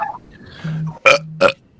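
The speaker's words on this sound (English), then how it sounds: "Oh, that was not the burp I thought that was." A loud, close burp breaks out in two or three short voiced bursts, with no talk around it.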